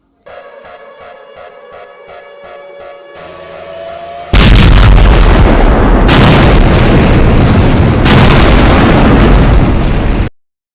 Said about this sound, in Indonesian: ya, terjadi sebuah ledakan di power plant.